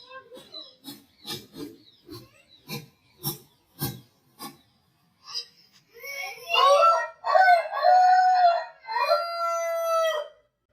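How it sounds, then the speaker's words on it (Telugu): A pet rooster crows loudly near the listener early in the morning, a long harmonic call in the second half, after a run of short clucks or pecks and a few sharp noises. "మా కోడి కూతేస్తుంటే వీడియో తీసా."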